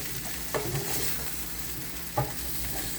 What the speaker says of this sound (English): Let me check on those potatoes. They sound like they're getting crispy.